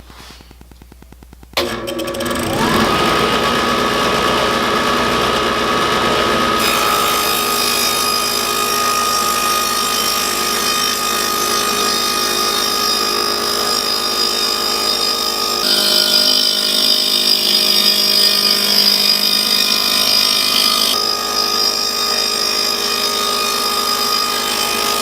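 A table saw with a 1.5 horsepower motor, fitted with a CMT dado blade, spins up sharply and then cuts through wood in a loud, sustained whine that holds steady, its pitch shifting slightly as the blade loads under the cut.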